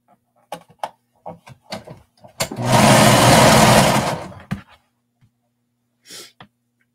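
A serger sews along the lined-up raw edges of a knit skater dress, one loud continuous run of motor whir and stitching lasting about two seconds, framed by a few short handling clicks and rustles.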